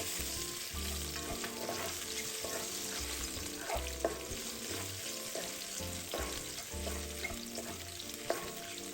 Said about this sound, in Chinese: 保留锅中的红葱油，加入香菇粒，中低火炒出香味